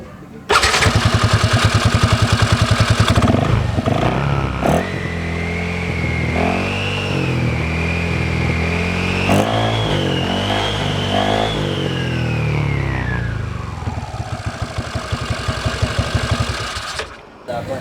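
A Yamaha NMAX scooter engine starts with a rapid rattle, then runs and revs up and down, its whine rising and falling as the CVT belt turns on the pulley, with talking heard over it.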